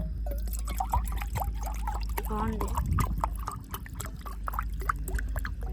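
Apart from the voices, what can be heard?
water poured into a cooking pot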